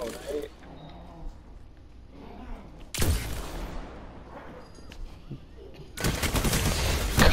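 Loud bursts of gunfire in a video game, sharp broadband volleys arriving in separate blasts several seconds apart, with quieter game sounds between them.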